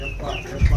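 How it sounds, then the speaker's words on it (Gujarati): Desi rooster clucking close by, a short burst of throaty clucks ending in a louder low thud. "દેશી કુકડા હે."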